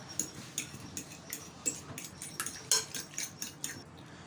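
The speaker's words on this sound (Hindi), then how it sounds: "हाफ़ जो जेली है उसको मैंने कांटे के साथ मैश कर लिया है" A fork mashes jelly in a bowl for a creamy fruit dessert, giving a series of light, uneven clinks and scrapes against the bowl, close and alone.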